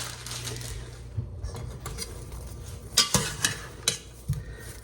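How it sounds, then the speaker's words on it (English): Marshmallows melting in a pot for s'mores bars are stirred with a utensil, giving soft scraping and a few sharper clinks against the pot, fairly close and alone. "we are going to stir these together until they're completely melted and no large amounts of marshmallows remain"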